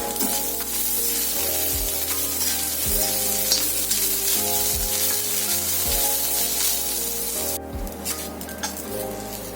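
Grated fresh coconut fries with onion in a pan for an egg curry, a loud, even sizzle that holds throughout with steady background tones.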